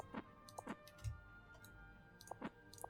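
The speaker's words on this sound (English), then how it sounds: "My microphone picks up my keyboard a lot." Faint computer keyboard clicks picked up by a desk microphone: sparse, irregular taps and clacks spread across a few seconds, quiet and close with no talking.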